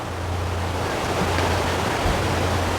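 Water rushing at Wli Waterfalls in Ghana, a loud, steady broadband roar with a low hum under it, continuous and close.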